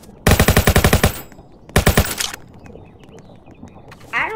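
Rapid gunfire in the Roblox Jailbreak video game: a quick burst of about ten shots, a pause, then a shorter second burst, loud and close, followed by quieter game background sounds.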